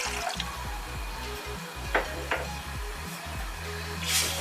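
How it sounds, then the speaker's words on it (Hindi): Water poured into a cooking pan to start sugar syrup for khoya gulab jamun, a soft steady trickle with a few faint clinks of the pan, close and quiet. "पानी ऐड कर देंगे"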